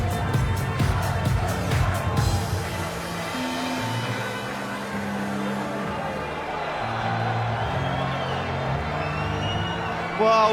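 A packed darts arena crowd at a World Championship semi-final roars, cheers and whoops loudly, the noise rising and falling steadily over several seconds with a commentator talking over it.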